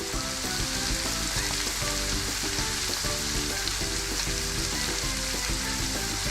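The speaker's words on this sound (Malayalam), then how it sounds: "സവാള ഇട്ടിട്ട് നന്നായിട്ടൊന്ന് മിക്സ് ചെയ്യുക" Onions fried with salt and spices for a Kerala-style chicken-veg kurma, crackling in a steady close sizzle with rhythmic stirring scrapes throughout and no voices.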